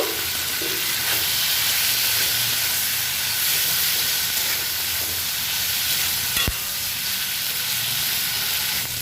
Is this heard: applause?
no